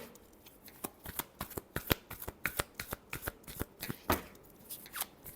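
Tarot cards being shuffled by hand, a rapid series of crisp riffling slaps and flicks in uneven bursts, close and fairly quiet with no talking.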